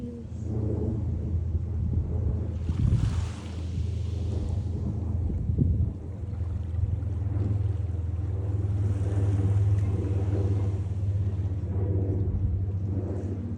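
Low-tide sea washes gently on a beach in Thailand, with a broad steady rumble of surf and wind that surges now and then. It stays continuous and fairly loud.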